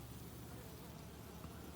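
Honey bees in a queenless hive hum in a steady, faint, unbroken drone, heard close to the box with no voices over it.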